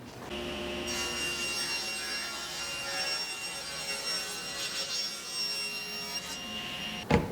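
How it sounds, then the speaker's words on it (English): A table saw rips a long plywood shelf to 4½ inches wide against the fence, a steady whining cut that runs loud and continuous for several seconds before ending with a brief thump. "Now at 4½ inches, we're going to rip the upper long shelf."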